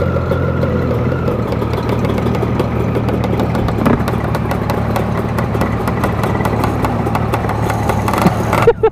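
A Yamaha RD 350 motorcycle engine idles steadily nearby, a low, throbbing two-stroke burble with occasional sharper pops and a small blip near the end.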